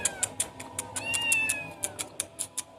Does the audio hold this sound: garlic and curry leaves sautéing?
no